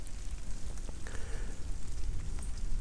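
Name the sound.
light rain starting to fall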